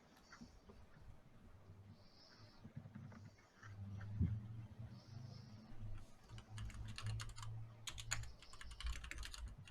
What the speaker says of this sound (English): I can hear you typing, Adam